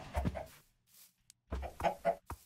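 Chickens in the video game Minecraft. Two short clusters of close clucking and low burbling calls come with a quiet pause and a small click between them.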